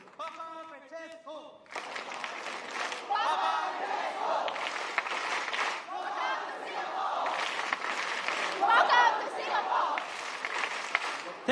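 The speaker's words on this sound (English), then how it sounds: "Shall we do one more cheer with the Papa Francesco?" A large crowd in Singapore cheering and clapping for Pope Francis at a public welcome event, a loud sustained roar of voices and applause rising in waves, preceded by a brief amplified voice.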